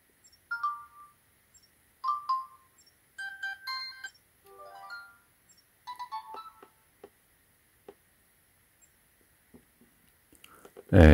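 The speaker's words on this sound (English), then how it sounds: "And then default notification sound." Notification tones previewed on an AT&T Radiant Max prepaid smartphone: several short chiming blips spaced about a second or two apart, soft and close, followed by faint tapping and handling noises.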